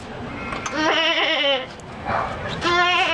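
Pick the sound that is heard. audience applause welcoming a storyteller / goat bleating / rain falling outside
goat bleating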